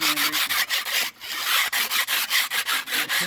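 Rapid, rhythmic rasping strokes of sanding on a concrete pool surface, steady and close, with one brief pause partway through.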